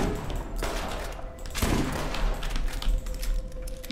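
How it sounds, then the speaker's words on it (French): A small pistol in Borderlands pops off in quick, sharp reports like children's firecrackers, a rapid scatter of cracks over a few seconds with one heavier thump midway. "Le bruit de mon petit pistolet, on dirait que c'est des pétards pour comme quand on était enfant"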